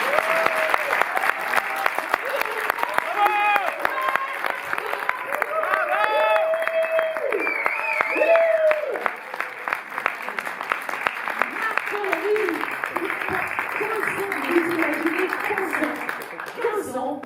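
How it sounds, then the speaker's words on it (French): A crowd applauds loudly and continuously, dense clapping mixed with cheers and shouting voices that gradually settle into steadier clapping. "je veux un tonnerre d'applaudissements"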